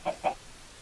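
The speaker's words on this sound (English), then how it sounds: "Chickens come along to have a look." Minecraft chickens cluck twice in quick succession, two short close bursts with a brief gap between them, followed by near silence.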